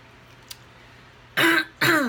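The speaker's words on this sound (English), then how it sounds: "Excuse me, I'm going to take a drink of water here." A man pauses for a drink of water, then clears his throat twice in loud, close, raspy bursts after a quiet stretch broken by one small click.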